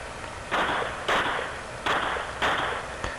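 Pistol shots at an IDPA match, fired from a seated position at several targets, come as about five sharp, loud reports spaced roughly half a second apart, each ringing briefly outdoors.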